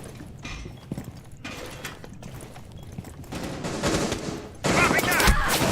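Muffled bursts of gunfire come through a wall in the Rainbow Six Siege video game: scattered shots early, then denser, louder volleys building toward the end, with faint talk mixed in.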